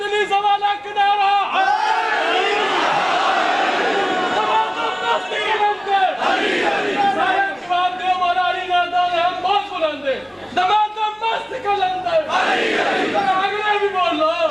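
Large crowd at a Shia majlis gathering chanting religious slogans in unison, loud and rhythmic, repeated waves of collective shouting with swelling voices over about fifteen seconds.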